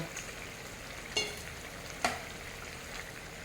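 Steady sizzling of capsicum and green chilli frying in a pan, broken by two sharp scrapes of a utensil stirring.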